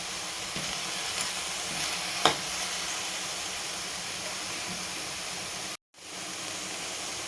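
Ridge gourd and partly cooked tomatoes fry in a pan with a steady, close sizzling hiss, broken by a couple of faint utensil taps and one brief cutoff near the end.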